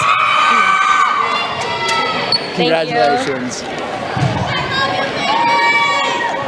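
A home crowd at a girls high school basketball game in Amherst cheers and shouts loudly after the win, with children yelling and a voice speaking over the steady roar.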